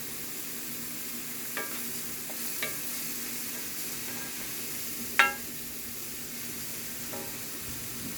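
White and portobello mushroom stems cooking down in a pan make a soft, continuous hiss with a few light spoon taps against the pan, close by and without speech.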